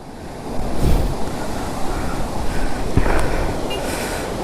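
Steady rushing water of the Kali Gandaki river in Nepal's Mustang region, with gusts of cold wind buffeting the microphone, a continuous broadband roar throughout.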